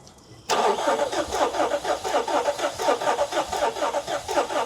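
A Nissan Titan pickup engine cranking on the starter: after a brief quiet moment, a loud, rhythmic whirring churn pulses steadily at close range without catching, no voices.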